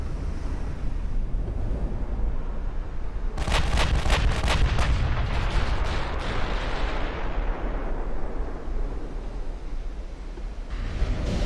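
Battleship guns from Ultimate Admiral: Dreadnoughts fire in a loud ripple of several sharp booms at sea, over a steady roar of wind and surf that persists before and after the salvo.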